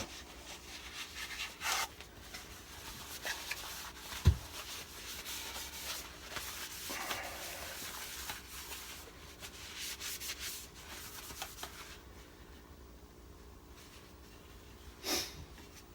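Soft, steady rubbing and scratching of abrasive against a wooden yarn bowl, continuing for a long stretch at low volume with a few brief louder scrapes.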